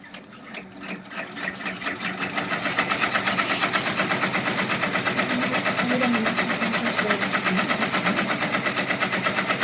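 An embroidery machine stitching a name onto a key fob in the hoop, a fast rapid needle rattle that starts up and settles into a loud steady mechanical chatter, close by.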